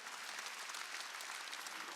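A church congregation at a Sunday worship service claps in dense, steady applause, loud and continuous throughout with no pauses.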